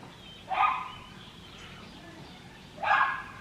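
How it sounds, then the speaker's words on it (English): A small dog being walked outdoors barks twice, about two seconds apart, each bark sharp and moderately near against a quiet background. "the 1 dog is always barking"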